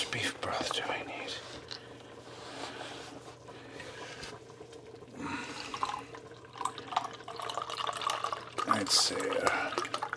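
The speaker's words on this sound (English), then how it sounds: "I need a can of beef broth. Oh yeah, this is a 28-ounce can. So, how much beef broth do I need?" Beef broth pours from a 28-ounce can into keto chili, a soft running, splashing liquid sound with small drips, mixed with quiet, half-whispered talk.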